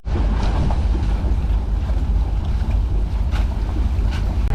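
A sailboat motoring up a river with the sail down gives a steady low engine rumble and water rush, buffeted by heavy wind noise across the microphone, loud and continuous with no talk.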